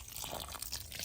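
Fertilized water poured onto soil for seedlings, a quiet, close trickle with small splashy drips and gurgles over about a second.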